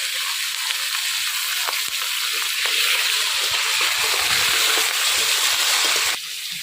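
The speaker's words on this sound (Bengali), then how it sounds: "এই দেখেন মাছের মাথাটা কাঁচা লঙ্কা সম্পূর্ণ সব ভাজা হয়ে গেছে" A hilsa fish head sizzles loudly in hot oil with green chilies in a village kitchen, a continuous bright hiss of frying that cuts off abruptly near the end.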